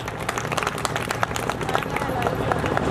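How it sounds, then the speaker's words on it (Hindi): Crowd applause at an outdoor birth-anniversary celebration in Ambedkar Park, Kanpur, for a donor being honoured: steady mid-distance clapping from many people with background crowd noise, sustained and growing slightly louder throughout. "उनके लिए जोरदार तालियां"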